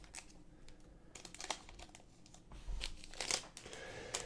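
Scissors snip and crinkle through the stiff foil top of a Dragon Ball Super card booster pack, with close, quiet cuts and crackles arriving in short irregular bursts, no talking.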